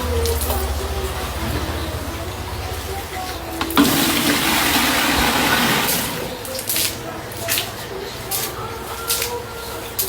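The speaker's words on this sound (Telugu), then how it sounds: "ఇక్కడ కూడా కల్లాపు నీళ్ళు కావాలా?" Water splashes and pours for kallapu sprinkling of a village house courtyard, a broad rushing burst midway followed by scattered splashes, with a voice speaking nearby.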